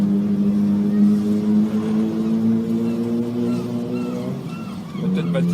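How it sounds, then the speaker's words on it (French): Motorcycle riding behind a car on the road, a steady low engine drone that holds a fairly even pitch, loud and close, with a brief shift near the end. "Le bruit que vous entendez, c'est un motard derrière moi."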